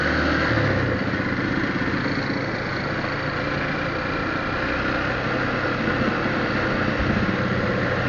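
An engine rumbles through a busy town street market in Barreira, a steady mid-pitched motorcycle drone with slight swells in revving as it moves nearby, over general market background noise.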